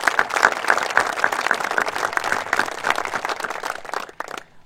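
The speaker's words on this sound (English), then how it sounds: "So please join me in a round of applause for his service to Oregon Tech." An audience at an Oregon Tech gathering gives a round of applause, a lively, uneven patter of many hands with distinct individual claps, fading out over the last half second.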